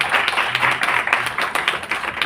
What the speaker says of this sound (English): a big round of applause to all the ambassadors who have